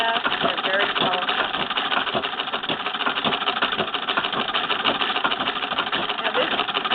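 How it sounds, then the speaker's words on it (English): A Singer 1919 Red Eye Model 66-1 treadle sewing machine is treadled at speed, giving a fast, steady mechanical clatter with an even rhythmic cadence, close and continuous throughout. "You can hear the cadence of the treadle."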